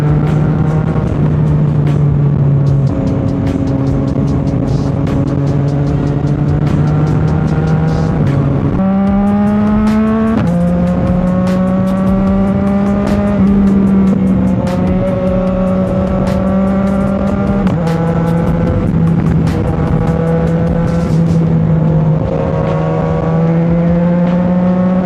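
A loud Yamaha MT-09 motorcycle engine holds steady revs with rising and shifting tones, running continuously and close, on a track ride at Clark Speedway alongside a bike with an Austin Racing exhaust.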